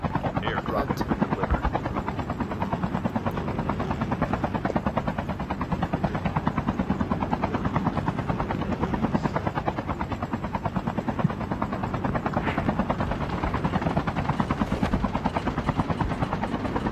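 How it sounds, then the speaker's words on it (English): A helicopter in the shooter game Call of Duty Mobile thrums with a loud, steady rotor chop that holds for the whole stretch, and a few brief game effects sit on top. "Yeah, I broke the enemy guy's one helicopter."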